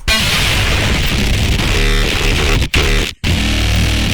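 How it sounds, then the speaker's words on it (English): Harsh synthesizer tone driven through extreme distortion, a dense, buzzing, noisy wall of sound that stays loud throughout, broken by two brief dropouts near the end. "I'll use extreme distortion to quickly and organically realize complex and interesting sounds in my"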